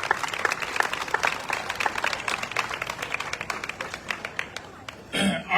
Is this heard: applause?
yes